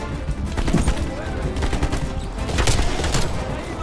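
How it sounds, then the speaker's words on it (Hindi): Dense, continuous gunfire in Call of Duty Black Ops Cold War, overlapping rapid shots and explosions, loud and chaotic, with voices mixed in. "जलने के बाद भी गोलियां चला रहे।"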